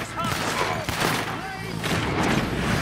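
Rapid bursts of video game gunfire in a Western-style shooter, loud and close, mixed with people talking over it throughout.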